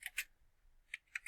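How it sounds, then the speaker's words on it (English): Typing on a computer keyboard at a command prompt: a few faint, sparse keystroke clicks with quiet gaps between them. "And we'll type in ping"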